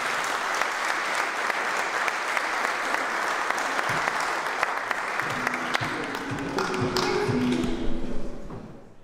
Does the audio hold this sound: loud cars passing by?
no